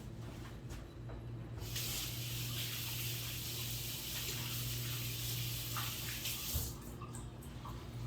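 Hands rinsed under a running tap in a home kitchen while making oven-cooked burnt ends, a steady close rush of water lasting several seconds before cutting off, quiet room tone around it.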